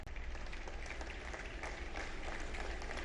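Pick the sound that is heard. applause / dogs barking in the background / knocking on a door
applause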